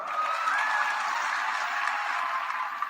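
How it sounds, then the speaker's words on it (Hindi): A large crowd claps steadily at an Assam political rally addressed by Modi, a dense, continuous wash of applause that holds even from start to finish without pauses. "हो जाए ताली आज आपके नाम पर"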